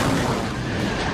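A cruise missile blast in war news footage, a dense, sustained low rumble of detonation that fills the whole moment, loud and unbroken with no voices.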